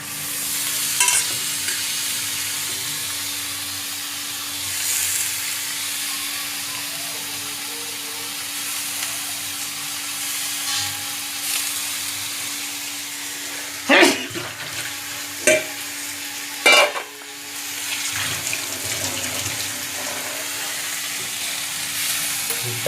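Dried fish (shutki) fries in a pan with a steady, low hiss of sizzling and occasional stirring scrapes, a few louder clattering bursts near the middle.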